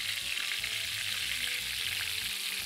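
Breaded lamb ribs frying in hot oil, a steady close sizzle with soft crackles as they are turned with tongs, no voices.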